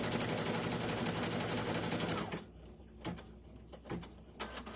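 A sewing machine stitches a stuffed toy in a fast, dense whir for about two seconds, then stops, followed by a few quieter clicks and handling knocks.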